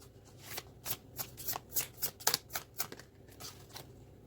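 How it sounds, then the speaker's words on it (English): Tarot cards being shuffled by hand, a quick series of close, crisp riffling snaps and flicks, about a dozen bursts in rhythm, with no talk. "I feel like grabbing another card for you."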